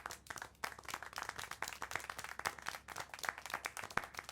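Crowd-style clapping from the Syberia: The World Before video game, a dense run of sharp, fairly quiet claps repeating steadily over a few seconds with no voices.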